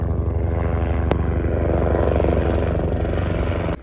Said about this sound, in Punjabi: ਜਹਾਜ਼ ਉੱਡਦੇ ਆਉਂਦੇ ਆ ਹੈਲੀ ਤੁਸੀਂ ਦੇਖੋ